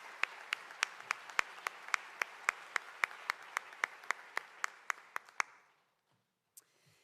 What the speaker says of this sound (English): If we could just give them all a quick round of applause,